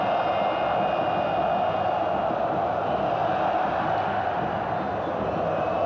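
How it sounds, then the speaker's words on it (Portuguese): A football crowd at Mané Garrincha stadium in Brasília during a Vasco vs São Paulo Brazilian league match, heard as a dense, constant roar of distant massed voices chanting olé with no breaks. "E a torcida, claro, ensaia o olé aqui no Mané Garrincha."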